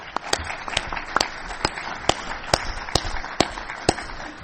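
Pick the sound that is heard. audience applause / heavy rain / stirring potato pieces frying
audience applause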